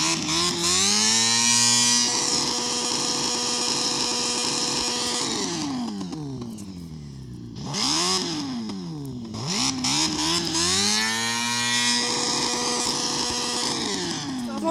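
A motorcycle engine in a video game revving hard, loud rising and falling whines that climb, hold at high revs, drop away through a few sharp blips and then surge again, with no talk over it.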